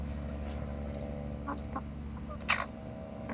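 Three young Easter Egger (Ameraucana-type) pullets make soft, intermittent coos and chirps, a few short calls and one louder peep, over a low background hum.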